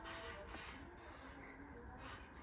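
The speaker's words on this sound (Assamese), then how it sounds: "এইফালে ৰে'ল আলিত দেখিছোঁ নহয় গাড়ী" A train runs along a railway track, heard as a faint, steady rumble with a soft hiss, distant and muted, with no voices over it.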